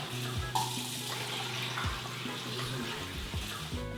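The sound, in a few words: washing red lentils in water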